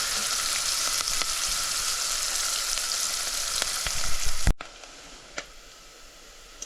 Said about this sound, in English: Just get this cooking for a minute before we add our other seasonings and the salted fish.